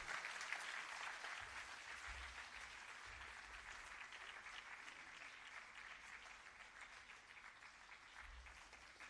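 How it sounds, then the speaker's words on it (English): Audience applause after a Bharatanatyam arangetram dance performance: a steady, sustained wash of clapping from a seated crowd that holds evenly throughout and sounds somewhat distant. "Please give them a big round of applause."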